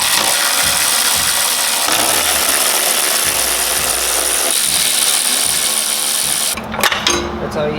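Mechanics work under a Lexus IS300 removing the suspension, loosening bolts with power tools during a coilover install: a busy, loud clatter of tool and engine-like noise runs throughout, then drops off near the end.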